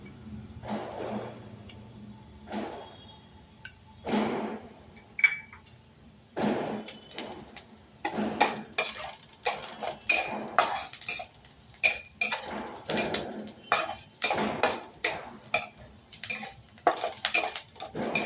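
Turmeric is stirred into egg curry in a metal pan, with repeated scraping clinks and taps of a spoon against the pan, irregular at first and then quicker and steadier, close and fairly quiet.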